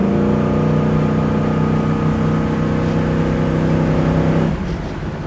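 A 1967 Chevrolet Camaro SS-style engine drones steadily from inside the cabin, its pitch holding and gently rising, then easing off as the throttle drops near the end.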